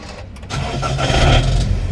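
A Toyota 86 engine cranks and catches, rising from a brief starter whir into a loud, close rumble that builds and holds.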